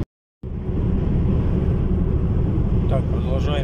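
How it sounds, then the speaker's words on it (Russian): Steady loud low roar of wind buffeting a Ford Focus 3 estate car driving on a highway at about 90 km/h with a roof box, continuous after a brief silent start, with faint voices near the end. "порывы ветра вы слышите"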